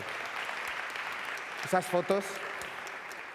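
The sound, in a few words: audience applause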